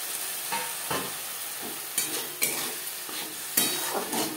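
Onion, tomato, ginger and green chilli spice paste sautés in a pan over low to medium flame, a constant hiss broken by repeated clacking and scraping spatula strokes at close range.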